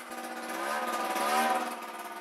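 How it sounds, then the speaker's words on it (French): A steady motorcycle engine runs at a constant mid-pitched drone, swelling slightly in the middle before settling, close by and with no talking. "Le moteur tourne."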